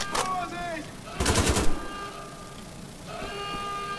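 Machine gun fire in the video game Wolfenstein: The Old Blood, a loud close burst of rapid shots in the middle, with the game's tonal music and effects running before and after.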